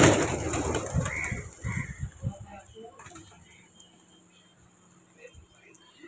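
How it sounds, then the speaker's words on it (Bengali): Pigeons coo softly nearby while coming to eat puffed rice in the morning, with brief rustling and a voice talking at the start before things settle into quiet. "আজকে সকাল সকাল পায়রারাও খেতে আসছে"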